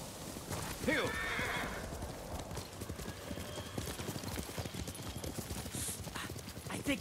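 Horse hooves clip-clopping steadily with a whinny early on in the video game Ghost of Tsushima, over a busy background of game ambience.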